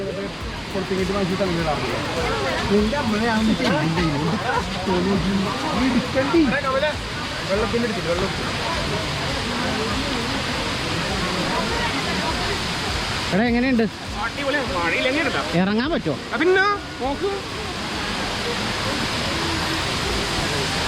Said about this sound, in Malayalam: അവിടുത്തെ വെള്ളച്ചാട്ടം എങ്ങനെയുണ്ടെന്ന് നോക്കാൻ വേണ്ടി പോവുകയാണ്